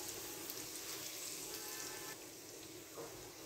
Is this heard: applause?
no